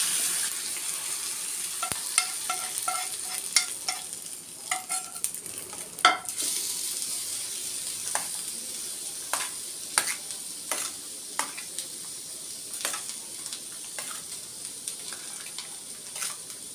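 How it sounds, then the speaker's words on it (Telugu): A spoon scrapes and stirs freshly fried tempering through cooked rice for pulihora, tamarind rice made as a Varalakshmi puja offering, with a soft steady sizzle and a rapid run of close scraping clinks, then slower irregular stirs, no voices. "ఇప్పుడు రైస్లో కలిపేసుకుందాం."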